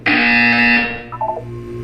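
A loud electronic buzzer from the video game Portal 2 blares in one steady tone for about a second, then a short trailing electronic blip follows.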